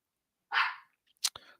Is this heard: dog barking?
yes